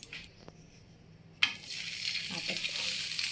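A home-made veg pizza on a tava with a little oil, a faint opening followed by a sudden burst of close sizzling that holds steady as it cooks.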